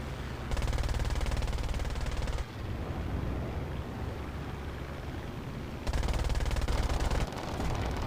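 Aircraft machine guns fire in War Thunder Mobile, two loud sustained bursts of rapid, even-paced shots, each about one and a half to two seconds long, separated by a steady roar of engine and battle noise.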